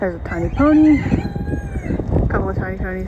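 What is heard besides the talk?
rooster crowing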